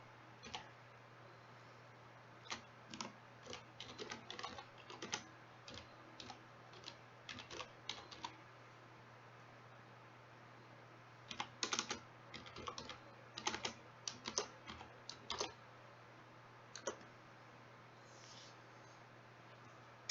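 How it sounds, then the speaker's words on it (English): Someone types slowly on a computer keyboard while playing a farming simulator, with irregular bursts of close, crisp key taps separated by pauses, over a low steady hum. "I'm a slow typer."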